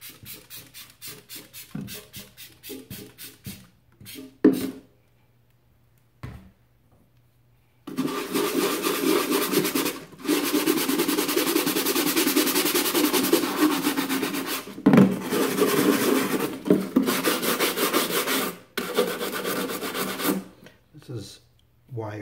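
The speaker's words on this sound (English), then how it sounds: "So I'm actually going to start with this soft scrub, which is supposed to be pretty mild." Soft scrub brush rubbing on a Series IIA Land Rover windscreen washer part, with a few short strokes first and then long sustained loud scrubbing broken by brief pauses, close up.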